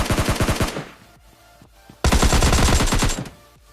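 Rapid automatic gunfire in a video game shooter match, two loud close bursts of quick repeated shots with a brief quieter gap between them and no talking.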